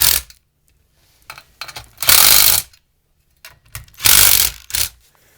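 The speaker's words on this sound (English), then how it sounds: "now that we tightened all these nuts up with 1/2-inch socket" Ratchet with a 1/2-inch socket tightening nuts while assembling a Gripper Hitch Step: short clicks alternate with two longer, loud bursts of rapid ratcheting close to the microphone, with quiet gaps between.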